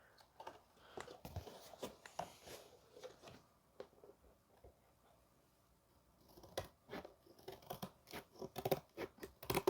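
Snips or shears cut a sheet metal patch panel for a 1988 Ford truck cab, giving irregular clusters of sharp crunching clicks with a quiet lull in the middle before a denser burst of cuts, faint and close.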